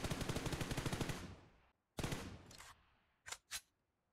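An M416 assault rifle fires in PUBG Mobile with recoil control turned off: a rapid full-auto burst of about a dozen shots fading out, then after a pause a short burst and two separate single shots, loud and close.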